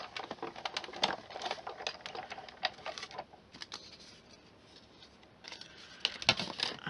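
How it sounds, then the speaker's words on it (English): A die-cutting machine rolls a die through card stock with bursts of crisp clicking and crackling that come in uneven clusters and ease off briefly between them. "I'm cutting it this way so that the die actually goes straight under the roller"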